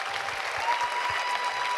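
A conference audience at a sustainable-development forum's opening plenary claps loudly and steadily, dense applause filling the whole stretch with no voices on top.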